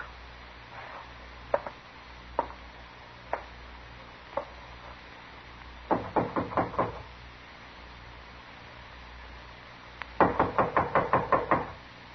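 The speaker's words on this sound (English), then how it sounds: "knock on the door" Knuckles rap on a wooden door in a western drama: several single knocks spaced apart, then two quick bursts of rapid repeated knocking, fairly close and sharp.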